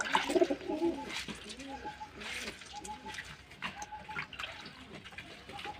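Pet pigeons coo softly in a series of short rounded calls, with scattered rustling and splashing around them and faint voices nearby.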